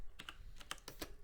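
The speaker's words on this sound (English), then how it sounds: "Sorry if I'm a bit slow typing." Keys on a computer keyboard are tapped in a slow, uneven finger-typing rhythm, about half a dozen distinct close clicks over a bit more than a second, quiet and with no talking.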